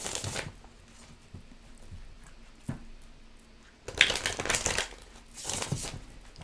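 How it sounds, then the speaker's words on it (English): Tarot cards are shuffled in a few soft riffling bursts, with a louder flurry of papery flicks and taps in the second half, close up and quiet, with no voices. "One more shuffle."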